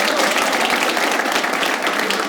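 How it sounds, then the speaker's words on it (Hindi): Studio audience applause on a comedy game show, a loud, continuous burst of many hands clapping close by, unbroken for the length of the clip, with no speech over it. "तालियां फर्स्ट ऑफ ऑल स्नेहा के लिए"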